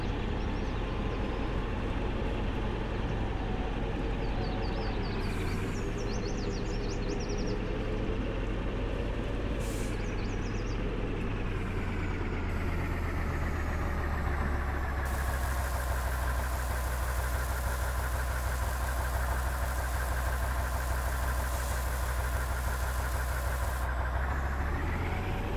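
Tractor engines idling on a farm by silage pits, a steady low rumble with a constant mid-range drone that shifts in tone partway through, close and loud without talk.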